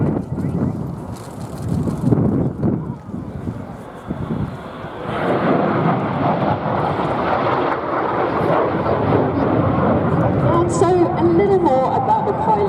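A red and white Hawker Siddeley Gnat jet roars through an airshow display at Duxford, its broad rushing jet noise swelling and holding steady under a commentator's voice, with wind buffeting the microphone.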